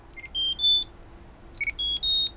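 Short electronic beeps and chirps repeat in a quick irregular pattern, clear and close, with a faint hum beneath.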